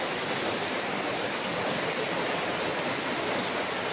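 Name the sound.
heavy rain pouring down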